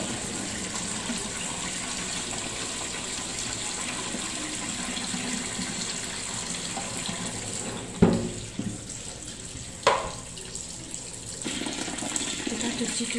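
Steady running tap water streams over papaya leaves being washed in a sink, a continuous close gush broken by a couple of brief splashes and handling knocks near the end.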